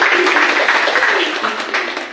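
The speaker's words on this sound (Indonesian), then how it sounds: "Kita beri tepuk tangan dulu." An audience at an Indonesian parenting gathering claps together in a dense, steady burst of applause that fades slightly toward the end.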